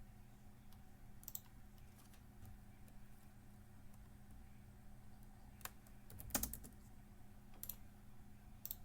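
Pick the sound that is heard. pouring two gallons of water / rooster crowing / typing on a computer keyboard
typing on a computer keyboard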